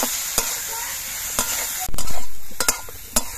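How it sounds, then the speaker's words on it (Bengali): Ground spice paste and potatoes stir-fried in a pan for a Bengali shol fish curry: a steady close sizzle broken by several sharp scrapes and clacks of a spatula, with one louder burst of frying near the middle, no voices. "এবারে এই মশলাগুলো দিয়ে কিছুক্ষণ কষিয়ে নিতে হবে।"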